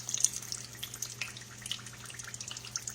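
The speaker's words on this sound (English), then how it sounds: "have you a slotted spoon and let it drip" Fried food dripping from a slotted spoon: faint, scattered drips and light sizzle over a low steady hum, close and quiet with no talk.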